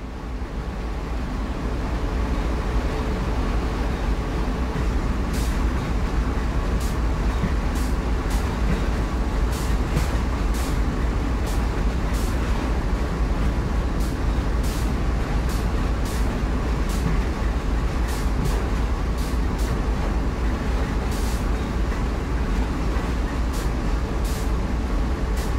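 A heavy CSX freight train rolls slowly past a loader, a steady loud low rumble with wheel and car noise throughout and a series of sharp clicks and clanks recurring at irregular intervals.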